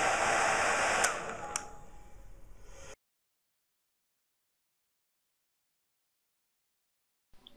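An electric hair dryer blows with a loud, steady whoosh, a couple of sharp clicks, then it cuts off abruptly into silence.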